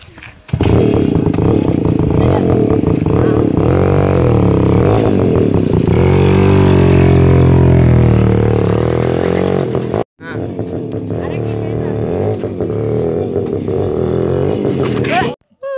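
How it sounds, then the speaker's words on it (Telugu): A motorcycle engine starts and runs loud and close, revving with a steady throaty drone that briefly cuts out and then resumes, with people talking over it. "అరే బండి వస్తుంది రా, లిఫ్ట్ అడుగుదామా? బండి స్టార్ట్."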